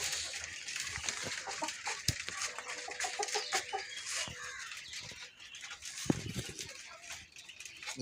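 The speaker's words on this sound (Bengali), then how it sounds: "এগুলো আমাদের কোয়েল পাখি।" Quail birds kept at a farm chirp and cluck steadily in a dense, continuous chorus, with a few clearer repeated calls standing out and no voices.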